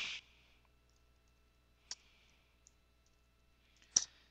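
A computer mouse gives a few sharp, isolated clicks, one at the start, one near two seconds and one near four seconds, in an otherwise quiet room.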